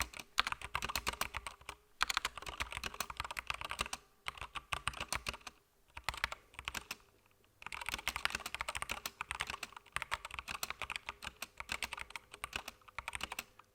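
Rapid typing on a SteelSeries Apex Pro 2021 mechanical gaming keyboard, dense clattering keystrokes in close, bursty runs with brief pauses around the two-, five- and seven-second marks, fairly quiet and with no talk.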